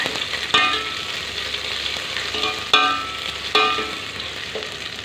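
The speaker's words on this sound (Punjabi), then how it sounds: "ਇਹਦੇ ਵਿੱਚ ਆਪਾਂ ਅਦਰਕ ਜਿਹੜਾ ਪੀਕ ਪੀਕ ਕੱਟਿਆ ਹੋਇਆ ਵਾ ਇਹਨੂੰ ਪਾਤਾ ਵਾ" Chopped ginger frying with cumin in hot oil for Punjabi besan kadhi, a steady close sizzle broken by three sharp crackling bursts as it is stirred, with no talking.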